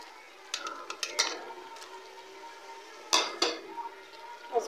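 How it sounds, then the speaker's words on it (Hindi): Fish pieces drop into a pot of yogurt masala curry, with sharp metallic clinks and clatter of a utensil against the pot over a soft background simmer, close and intermittent. "दही को भी हमने अच्छे से भून लिया और अब इसके अंदर मछली डालते हैं।"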